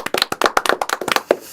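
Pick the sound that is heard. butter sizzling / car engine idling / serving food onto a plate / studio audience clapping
studio audience clapping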